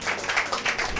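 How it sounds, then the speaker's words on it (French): A church gathering claps for a young girl after her song, steady mid-level applause filling the short moment without voices. "On peut l'applaudir aussi quand même"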